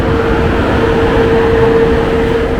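A continuous loud rumble of a short double-decker regional train, three cars and a locomotive, rolling past at close range near Petershausen, with a faint steady tone running through it.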